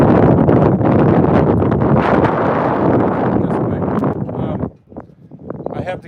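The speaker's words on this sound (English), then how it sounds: "It's windy as hell." Loud, gusty wind buffets the microphone at a truck stop near the Barry Goldwater Gunnery Range, with low rumbling roar, dropping briefly near the end before picking up again.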